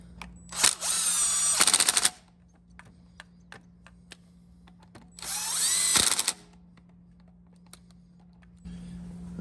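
An impact wrench tightens on a 20-year-old Yamaha 4x4 ATV in two loud, hammering bursts of about a second each, separated by a quiet stretch with faint clicks and shop noise.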